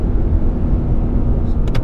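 A 2018 Lexus RC-F engine loudly rumbles through paddle-shifted downshifts, a dense and steady roar with a brief sharp blip near the end.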